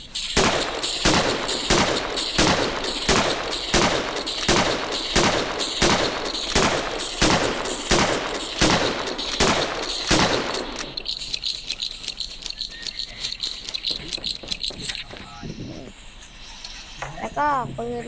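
Sharp gunshots from a gun in the Roblox game Westbound fire in a fast, evenly spaced series of about a dozen loud blasts, then give way to softer rattling game sounds.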